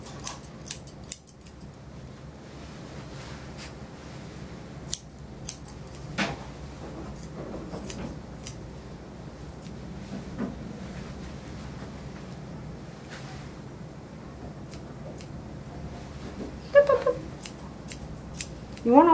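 Grooming scissors trim the fur of a senior Maltese dog, giving many small close snips scattered irregularly over a steady hum, sometimes in quick bursts, with no talking.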